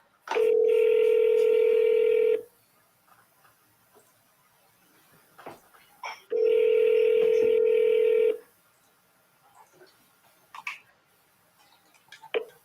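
A telephone plays two long, steady ringback tones during an outgoing call, each about two seconds, separated by a gap with faint clicks and small noises between them.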